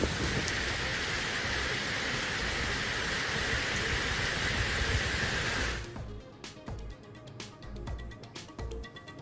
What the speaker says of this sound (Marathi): रत्नागिरीच्या मंडणगडमध्ये मुसळधार पाऊस।